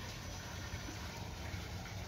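Water overflows from a PVC pipe channel fed by a strong SunSun 16,000 pump, a steady, even rushing gush with no breaks, fairly faint and continuous throughout.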